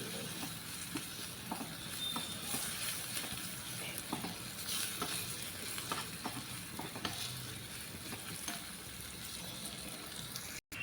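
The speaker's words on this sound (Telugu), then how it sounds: "మిరియాల ఎన్ని తెంచుకున్నాం కదా అవి కూడా వేసుకోవాలండి ఇందులోనే బాగా వేయించుకోవాలండి" Peppercorns frying in a pan of oil while tomato rasam is prepared, a continuous dense sizzle with faint stirring scrapes, fairly quiet and steady throughout, cut short by a brief click at the end.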